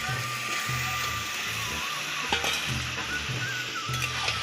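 Chicken pieces dropped into hot fried spice masala in a village-style kitchen, a loud continuous hiss and sizzle close up with faint stirring clinks.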